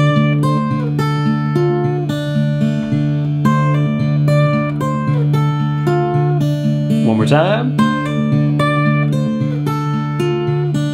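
Melodic blues etude line on acoustic guitar in DADGAD tuning, sustained notes ringing over a steady low drone, with a brief bend or slide flourish midway; a voice speaks briefly near the end.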